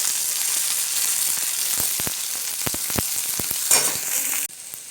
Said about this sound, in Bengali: গাজর আর আলুটা এখন আমি দিয়ে দিলাম। এবার আমি দিয়ে দিচ্ছি বিমসুটি।